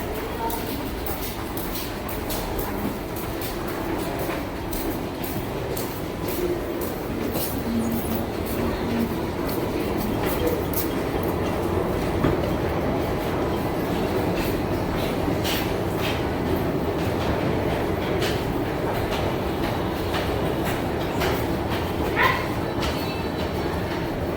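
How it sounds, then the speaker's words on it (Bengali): A train station with trains rolling through, a steady rumble and clatter of rail cars running continuously, with occasional squeals and brief voices mixed into the busy background. "তো চলে এসেছি এখন স্টেশনে"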